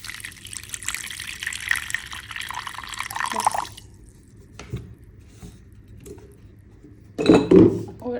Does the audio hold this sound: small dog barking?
no